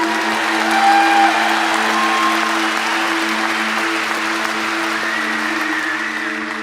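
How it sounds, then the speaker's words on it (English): Sustained applause from a crowd at a graduation convocation, steady clapping filling the room for several seconds with a low hum underneath. "Let's give them a big round of applause."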